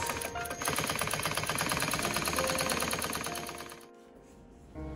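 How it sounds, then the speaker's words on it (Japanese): An industrial compound-feed sewing machine runs with a fast, even mechanical clatter as it stitches a bag, loud and close, then slows and drops to a quieter hum before restarting briefly. "あとはもうこのまま縫っていくと"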